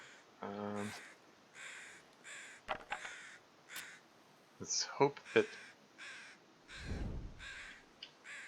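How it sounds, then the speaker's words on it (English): Crows in the video game The Long Dark caw repeatedly over a deer carcass, a run of harsh calls in an irregular rhythm, with someone speaking briefly between them. "Crow's going nuts over a deer carcass here."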